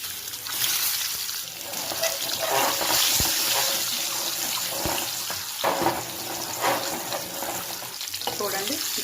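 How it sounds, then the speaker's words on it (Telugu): Eggs frying with turmeric in a pan, giving a loud, dense hissing sizzle with occasional scrapes and clicks of stirring, close up, with no voices. "చూడండి, గుడ్లు అంటుకోకుండా కంటుకోకుండా శుభ్రంగా ఎర్రగా వేగాయి"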